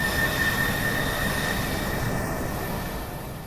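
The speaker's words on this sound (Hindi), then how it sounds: "जैसे कोई ट्रेन आ रही हो" A train approaches as an effect in a ghost story, a steady broadband rumble with faint high whine and hiss that slowly eases off toward the end.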